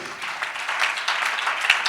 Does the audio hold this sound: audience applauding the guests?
yes